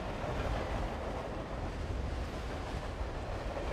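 Steady rumbling rush of a moving train in the game 428: Shibuya Scramble, a continuous dull roar with a wind-like hiss throughout, constant and fairly soft, with no voices.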